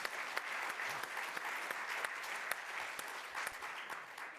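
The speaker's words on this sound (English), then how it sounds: "How about a round of applause for Rabbi Ed Feinstein?" Audience applause for a rabbi being introduced at a live evening talk event, steady dense clapping filling the room for several seconds at moderate distance, with no talk over it.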